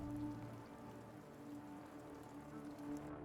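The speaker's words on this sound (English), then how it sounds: "It's the retroact rain." Retroact rain in the Wuthering Waves video game falls as a steady, soft hiss of raindrops. It is faint, with no voices over it.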